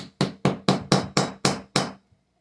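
Seven evenly spaced sharp hammer strikes on a plaster block from a gemstone dig kit, each a loud close knock with a quick decay, followed by a brief quiet pause.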